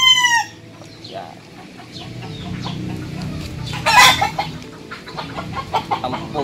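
Ten-month-old chickens and roosters at a backyard breeder in the Philippines, with a rooster crowing loudly at the start, then steady clucking and scattered calls close by, one sharp squawk partway through.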